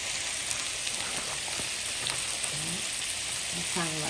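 Beef pieces frying in a pan for a home-cooked family dish, a steady close hiss of sizzling oil with faint stirring and brief voice-like tones near the end.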